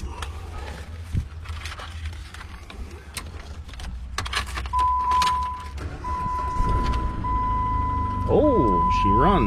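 A car with 148,000 miles that went off the road starts up: clicks and a steady chime tone, then the engine catches and settles into a low running rumble, with people talking over it.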